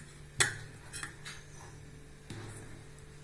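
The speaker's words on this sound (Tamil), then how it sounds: "தோசை கல் போட்டிருக்கேன்." A dosa griddle pan set down on the stove gives one sharp metallic clank, followed by softer clinks and a second lower thud against a faint steady hum, close and fairly quiet.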